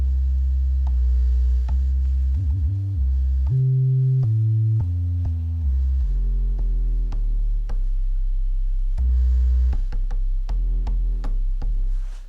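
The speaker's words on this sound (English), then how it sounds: "That's the sub I use for every one of my tracks, is the sine wave from a Moog." A deep, clean sine-wave sub bass from a Moog synthesizer plays a sequence of sustained low notes, shifting pitch step by step, loud and alone with no talking.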